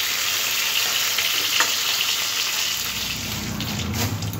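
Fish pieces fried in hot oil on both sides until reddish-brown, giving a steady, close, crackling sizzle that runs without a break and shifts slightly in tone partway through, with no voices.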